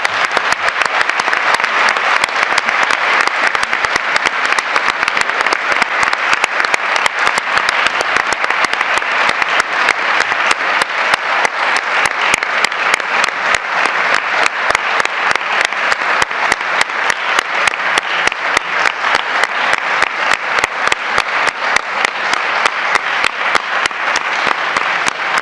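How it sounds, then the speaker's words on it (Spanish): Sustained audience applause at a Spanish congress session on victims of false gender-violence accusations, dense and steady clapping filling the room without pause for the whole stretch, loud and even throughout. "quiero pedir un aplauso para Jesús"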